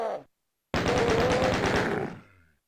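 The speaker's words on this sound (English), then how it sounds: "Now I get to rattle and gun you all down" A rapid machine gun burst from Punching Barons rattles loud and close, about a second and a half of evenly spaced shots that cut off abruptly, after a brief faint sound at the start.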